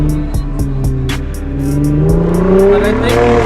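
A car fitted with a throttle controller accelerates, its engine note loud and close, climbing steadily in pitch with a few sharp transient clicks early on.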